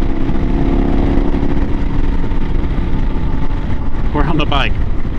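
A Yamaha WR motorcycle roars with a loud, steady engine and wind rush while riding, with a brief burst of talk near the end.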